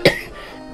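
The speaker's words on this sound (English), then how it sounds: "right now I just got a cough" Two short, sharp coughs from one person, the first at the very start and the second at the end, separated by a quiet, faintly breathy pause.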